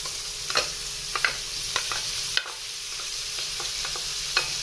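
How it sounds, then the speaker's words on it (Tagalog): Onions going into a pan of browned garlic and crispy pork, with steady sizzling frying under repeated sharp scraping stirs of a utensil, no voices. "So, dahil brown na yung ating garlic, so, isunod na natin ang ating onion."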